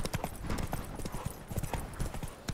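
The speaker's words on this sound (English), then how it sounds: "So we're going to take the horse." Horse hooves clip-clopping at a steady riding pace in The Witcher 3: Wild Hunt, a quick rhythmic patter of hoofbeats close by, with no talk over it.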